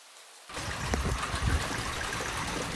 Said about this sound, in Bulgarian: Белезникава вода от улицата изтича в канавката пред мен